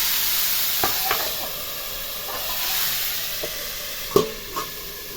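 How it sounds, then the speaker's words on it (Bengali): Fried vegetables for a Bengali shukto are stirred in a pan with a soft, steady sizzle and hiss. A few sharp utensil clanks against the pan punctuate the frying, with no voices. "এবার আমি সবজিগুলোকে নাড়াচাড়া করে ঢাকা দিয়ে দেব, হালকা আছে এগুলো হতে থাকবে।"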